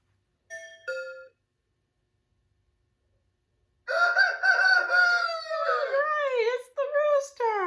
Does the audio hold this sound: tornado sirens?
no